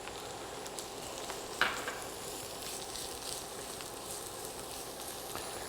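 Garlic fries alongside browning okra in a pan for dhal, giving a steady soft sizzle with crackling pops and one sharper clink of a utensil, alone without voices.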